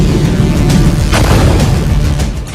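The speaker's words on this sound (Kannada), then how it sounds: "ಏರ್ಪೋರ್ಟ್ಗಳ ಮೇಲೆ ಇರಾನ್ ಬಾಂಬ್ ದಾಳಿ." Explosions from an Iranian bomb attack on airports: a loud, dense, continuous rumble of booms and blasts rolling on without pause, with no voices.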